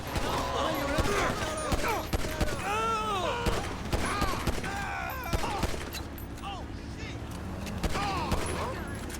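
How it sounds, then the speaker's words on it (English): Rapid gunfire cracks repeatedly in Grand Theft Auto V combat, shots coming in clusters throughout, with a voice talking over the shooting. "you can't really outmatch Trevor, at least compared to NPC gunfire and Trevor gunfire."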